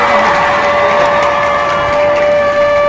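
A crowd applauds and cheers for Chief Minister Adityanath at a public gathering in Chillupar. The clapping is dense and steady throughout, with a sustained electronic tone from the sound system running beneath it.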